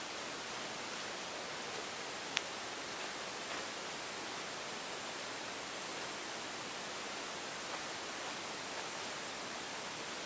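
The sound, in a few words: distant highway traffic sounding like rushing water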